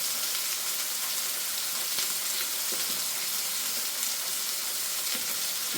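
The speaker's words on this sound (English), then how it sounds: "Give that a stir." Steak gravy bubbles and sizzles in a hot pan while being stirred, a continuous fizzing with a few soft scraping knocks from the spoon.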